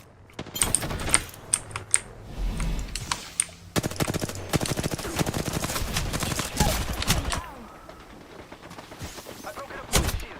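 Gunfire in the Apex Legends video game comes as rapid automatic bursts and scattered sharp shots, loud and clustered, with brief quieter gaps and a voice now and then.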